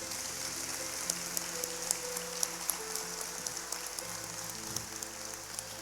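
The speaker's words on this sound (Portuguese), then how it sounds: "Você pode aplaudir o Senhor Jesus?" A church congregation applauds in steady, dense clapping that holds at an even, fairly soft level throughout, with no voices over it.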